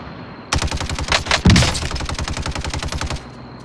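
Rapid automatic gunfire in the video game Call of Duty Warzone rattles off in fast, evenly spaced bursts for about three seconds, loud and close with a heavier blast partway through.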